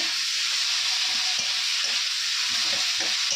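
Onions and vegetable curry fry in hot oil with a steady, loud sizzle that runs the whole time, with faint stirring knocks now and then.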